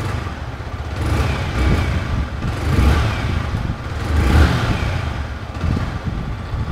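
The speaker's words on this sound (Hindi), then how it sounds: "इसको रेफ करते हैं बाइक को" A 2025 Yamaha R15M OBD2B sport motorcycle being revved while standing, its engine rising and falling in several repeated surges over a steady running note, close and loud, with no talking.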